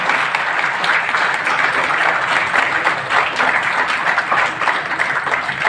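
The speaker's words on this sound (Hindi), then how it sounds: "जोरदार तालियां बजाकर उनका स्वागत करें।" An audience at a retirement farewell claps warmly and steadily to welcome an accountant who is retiring, a dense, loud wash of applause that keeps up without pause for the whole stretch.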